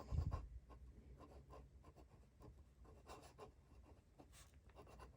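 A pen writing the words Midnight Black, a close, steady scratching and rubbing that runs throughout without pause, slightly louder at the very start, with no voices.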